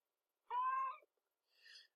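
A house cat meows once, clear and close, then gives a softer, shorter second call after a short pause in an otherwise quiet room.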